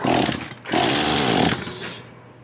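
Poulan Pro PP4218A chainsaw with a freshly repaired carburetor and fuel line firing and running briefly, a loud close two-stroke buzz that stutters, surges again and then dies away.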